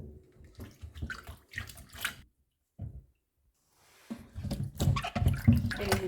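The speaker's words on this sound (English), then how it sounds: "Okay, so I will prepare the apples by washing them." Apples being washed in water give close splashing, sloshing and dripping in uneven bursts, with a short quiet gap and then louder, busier splashing.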